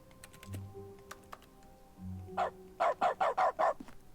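In The Stanley Parable: Ultra Deluxe video game, key presses set off dog barks: scattered clicks and a few yips, then a quick run of five loud, evenly spaced barks close up.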